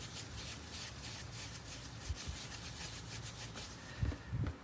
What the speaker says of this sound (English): we'll just scrub it up as best we can and get as much of this oxidation off